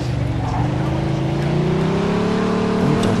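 A fast police car driven in the video game Mafia II, its engine holding a loud, steady drone that climbs gently in pitch as it speeds up, with someone talking over it.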